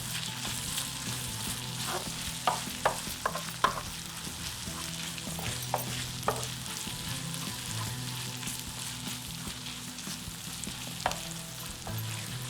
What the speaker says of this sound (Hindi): ज़ीरा डाल के मैं फ्राई करूँगी।